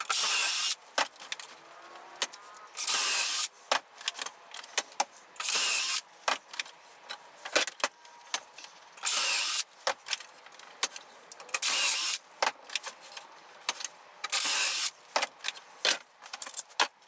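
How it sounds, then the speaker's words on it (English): Pocket hole screws are driven into a wooden tote stool with a power drill, repeated short bursts of whirring separated by brief pauses and light clicks. "I think we'll just pocket hole screw it together."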